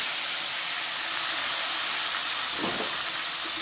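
Tomatoes fry in a wok of hot oil left over from frying potatoes, giving a steady, loud hiss throughout with a brief swell near the end and no talking.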